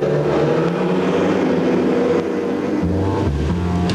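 A superbike races flat out down a straight in a British Superbikes support race, climbing through gears toward 155 mph, its engine a loud, steady, close high-revving roar with a slight shift in pitch near the end.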